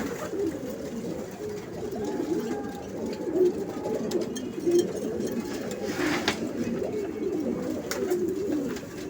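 Pigeons cooing in a loft kept for breeding pairs, a steady low murmuring coo with overlapping birds and a few brighter calls, moderately close throughout.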